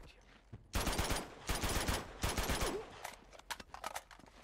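AK rifle gunfire in the video game Uncharted: Among Thieves: loud, close bursts of automatic fire, three long rattling volleys followed by shorter scattered shots fading out.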